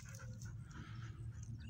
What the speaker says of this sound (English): Nice looking dog right there.